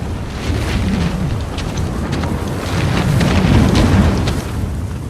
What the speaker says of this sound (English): The sound of the wind here doesn't particularly push the story along, but it does provide a great sense of mood and context for what it's like out in the desert.